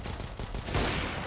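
Rapid automatic gunfire from a Counter-Strike match on the Overpass map, a dense burst of shots that swells louder toward the end, with no talking.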